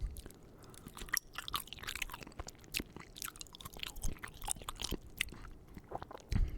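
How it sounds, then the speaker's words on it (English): Close-up chewing of soft pasta noodles, with wet, squishy bites and small crunchy clicks repeating irregularly for several seconds, quiet and intimate with no talking. "They're very easy to chew through and swallow"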